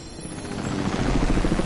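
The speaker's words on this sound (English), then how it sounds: "Who's in that chopper?" A helicopter flying in a multiplayer video game, a loud steady rotor thump that grows slightly louder over a brief stretch, with no talk.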